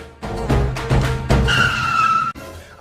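A car turns sharply and skids with a close, loud tire squeal that rises over the engine noise and then cuts off abruptly.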